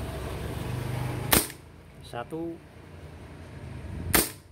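A Beretta PT92 4.5mm air pistol fires two sharp, close semi-auto shots a few seconds apart, with a brief spoken count and soft handling between them.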